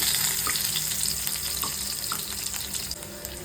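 Chopped garlic and a little salt dropped into hot oil for chilli paneer, giving a loud, continuous close-up sizzle with a few faint stirring taps.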